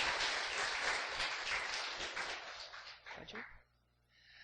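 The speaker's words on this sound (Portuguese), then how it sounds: "Você pode dar mais um aplauso ao Senhor Jesus?" Church congregation applauding loudly for several seconds, with a voice faintly mixed in, before the clapping trails off into quieter murmurs near the end.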